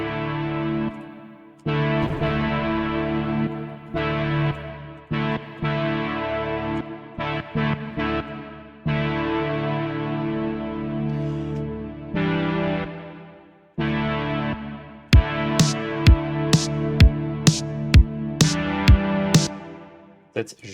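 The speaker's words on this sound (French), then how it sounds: "on met une reverb de con." Retro-styled music track with a heavy, exaggerated reverb effect, sustained chords and bass smearing into long tails, then sharp percussive hits ringing out near the end, loud and up front with no talking.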